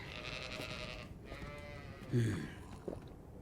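A sheep bleats once, a short wavering cry rising out of steady background noise and rustling, with a faint thump shortly after.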